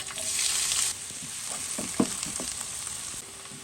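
Onions frying in oil with whole cinnamon, cardamom, cloves, black peppercorns, cumin and bay leaves give off a steady, close sizzle. Soft stirring scrapes and taps cut through it now and then.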